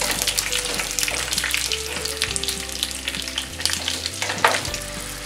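Potatoes frying in butter in a pan, with a close, steady crackling sizzle and dense popping throughout, alone without voices.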